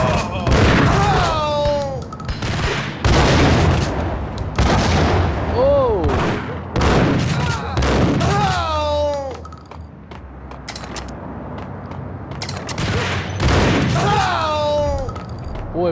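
Several loud, booming shotgun blasts in the retro video game Max Payne, spaced irregularly among other game effects, while someone talks over the action.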